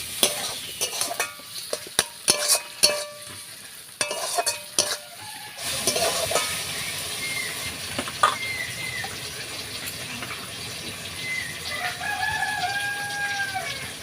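Chopped tomato sautéing with onion, ginger and garlic for a Bengali prawn curry, opening with loud clattering stirs and spatula knocks, then a steady sizzle with a rooster crowing faintly in the background.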